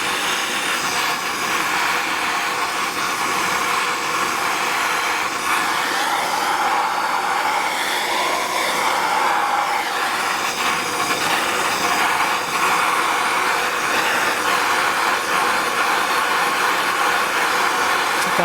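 A heat gun blows steadily as it warms the metal case of a rear end access differential unit from a Volvo, Land Rover, Jaguar or Ford, a loud, even airy roar running without a break.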